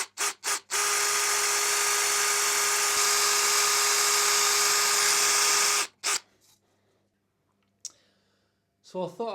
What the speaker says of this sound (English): So I thought I'll try out this power tap instead using the drill rather than doing it manually.